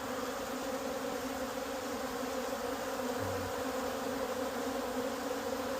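Honey bees swarm around an opened hive, a steady close, continuous droning buzz with no voices, holding an even level throughout.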